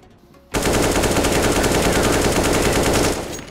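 Sustained automatic gunfire from Counter-Strike on the Inferno map erupts after a brief quiet moment, a loud dense rapid burst continuing for about three seconds before easing off.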